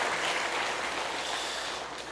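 A church congregation applauds together during a Sunday worship service, a steady wash of many hands clapping that holds evenly and tapers slightly at the end.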